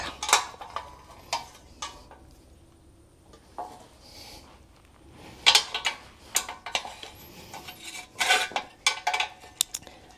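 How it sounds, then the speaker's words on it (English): Rusty bolts being worked loose on a 1969 Honda CD90Z motorcycle during teardown, with scattered metallic clinks and ratcheting taps of tools, close and fairly quiet, in irregular bursts without speech. "Just wrestling with rusty bolts."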